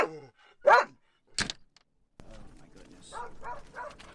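A dog sounding off in a quiet space, a couple of short yips or whimpers up close, followed by rustling and shuffling movement.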